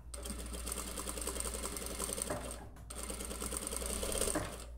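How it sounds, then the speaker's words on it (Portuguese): A sewing machine runs fast and close, topstitching a dart on a denim dress. Its dense, rapid mechanical chatter holds steady in two bursts split by a short pause, with no talk over it. "vou também fazer um pesponto aqui na montagem da pence"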